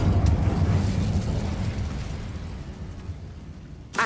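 Incendio fire spell cast in the Hogwarts Legacy video game, heard as a loud whooshing burst of flame that fades over a few seconds, followed by a brief sharp pop at the end.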